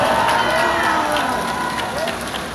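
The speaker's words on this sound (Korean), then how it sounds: "여러분, 제자를 위해서 박수를 한번 쳐주십시다." A large outdoor crowd at a political rally against KBS cheers and shouts loudly and continuously, a dense roar of many voices close around with no clear break.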